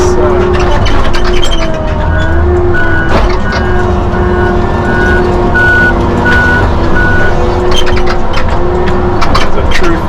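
A Tigercat feller buncher works through hemlock timber with a loud, continuous heavy diesel drone, broken by a steady series of high, evenly spaced warning beeps partway through.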